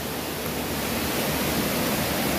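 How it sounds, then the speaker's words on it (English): A loud, steady roar of falling water, broad and unbroken, like a big waterfall heard from nearby. "You can see it's a big waterfall over here."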